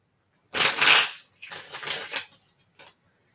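Tarot cards are shuffled during a reading, with two long, loud riffling bursts and a short snap at the end, heard close and alone.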